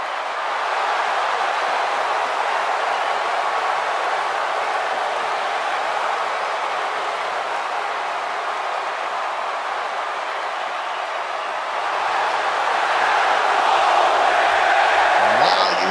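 A large arena crowd at an NXT TakeOver Dallas wrestling event roars in a steady, loud, sustained wall of cheering that swells further near the end.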